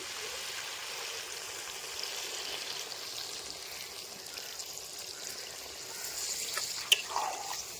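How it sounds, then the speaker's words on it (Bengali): Water pours into a pot of cooked chicken curry, a faint, steady watery rush that runs unbroken for several seconds before a brief splash near the end. "কষানো হয়ে গেছে জল দিয়ে দিচ্ছি"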